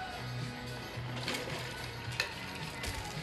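Something being stirred in a pot, a continuous low sizzle with scraping and light clinks of a utensil at close range, no talking.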